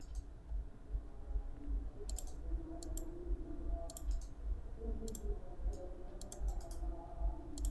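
Computer mouse clicks on a desk, sharp and close, coming singly and in quick pairs and triplets at irregular intervals over a faint steady room hum.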